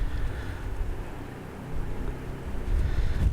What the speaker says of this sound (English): loud engine noises, and I think it's just echoing throughout this entire canyon